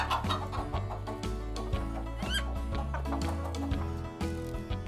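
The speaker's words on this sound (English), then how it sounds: "It's a chicken." Chicken clucking in a cartoon-style farm scene, repeated short clucks over a bouncy music bed, moderately loud and continuous.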